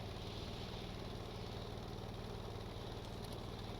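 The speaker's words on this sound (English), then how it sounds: "You can hear my engine struggling" Simulated helicopter engine in Stormworks labouring under the weight of a full Bambi bucket of water, a quiet, steady, low pulsing drone with a fast regular throb.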